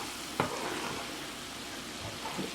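Onions sautéing in a pan for shrimp scampi give a faint, steady frying hiss, with one soft knock and a couple of quiet stirring touches.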